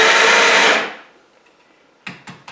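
A Sette 30 coffee grinder grinds beans with a loud, dense whir that cuts off abruptly after under a second, followed by quiet and then three sharp taps close by.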